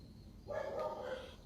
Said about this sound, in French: Désolé pour les voisins qui aboient.